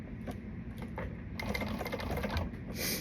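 Domestic sewing machine stitching a fabric garment piece, a steady whirring run of needle strokes that speeds up midway, close and fairly loud with no voices.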